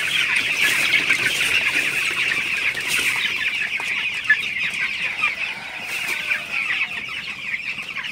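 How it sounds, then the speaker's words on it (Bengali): A flock of 18-day-old broiler chickens clucks and chatters while drinking water, a steady, busy chorus of overlapping calls with a few sharper peaks, heard nearby and without talk. "আপনারা দেখতে পাচ্ছেন যে মুরগিগুলা পানি খাইতেছে"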